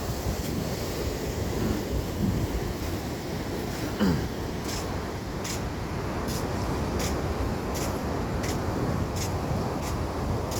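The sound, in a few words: ocean waves and wind at a beach in New Brighton, New Zealand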